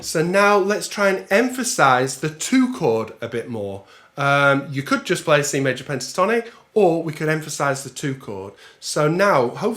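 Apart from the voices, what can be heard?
No distinct noise like a dog, phone or traffic.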